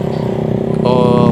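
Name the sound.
motorcycle carrying passengers up a steep hill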